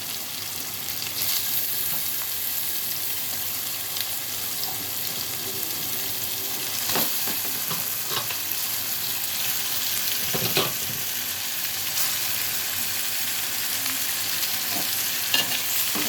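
Fish pieces for a fish curry sizzle steadily in hot oil, a continuous close crackle with faint scraping from stirring and a few sharper pops along the way.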